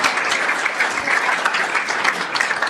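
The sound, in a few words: applause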